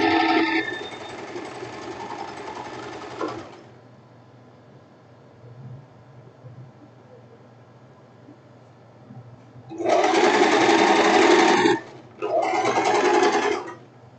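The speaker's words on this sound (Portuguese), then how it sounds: "É assim que a gente vai fazer a nossa costura francesa" A sewing machine stitches a French seam on a silk tank top, running in one long burst, then falling quiet, then two shorter close, loud bursts with a brief pause between them and no talking.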